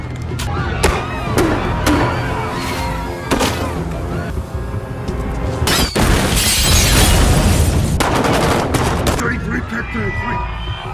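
In the 2013 action film Olympus Has Fallen, a car explodes during a terrorist attack. Loud bursts, rapid gunfire and shattering debris fill the scene continuously, with a big blast near the middle.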